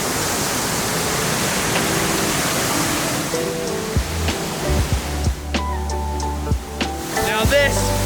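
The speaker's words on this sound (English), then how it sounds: "Now this is a really, really cool, unique waterfall, but it's really, really wet." Broad steady roar of a waterfall in southern Iceland, loud and close with drenching spray, running continuously; a few knocks and low thumps break in over the second half.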